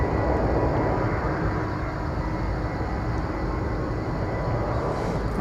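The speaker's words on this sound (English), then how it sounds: "Our first takeoff of the day" Jet airliner taking off at Incheon airport in Seoul, a steady loud roar of engines that holds constant throughout with broadband rumble and no voices.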